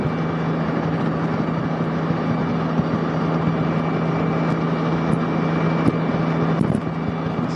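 A Can-Am Spyder F3 cruises while towing a Lugg & Roll trailer at about 90 km/h, its engine a steady, loud drone under rushing road and wind noise with no talking.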